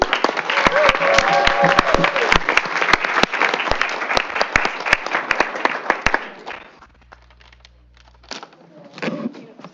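Audience applause for award winners at a school district board meeting, dense and loud clapping filling the room for about six seconds before cutting off, followed by a near-silent pause and faint voices and movement.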